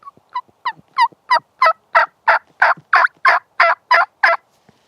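Wild turkeys gobble in a rapid series of about a dozen loud, evenly spaced bursts, close by and with no other sounds around them.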